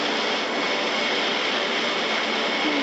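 A fixed-wing airplane flying, its engine a steady, loud broadband roar that holds constant without letup from start to end.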